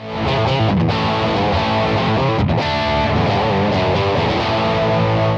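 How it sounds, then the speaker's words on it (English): Distorted electric guitar playing a riff through an amp simulator set to classic combo cabinet emulation, a boxy, mid-focused tone, steady and loud throughout with no talking. "In the top position, you'll get a classic combo sound"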